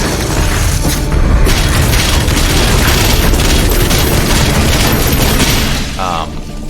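Grenade blasts and heavy combat in DOOM Eternal, a dense, loud barrage of booming explosions and bursts running continuously for several seconds before easing slightly at the end.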